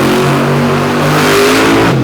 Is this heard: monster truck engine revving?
yes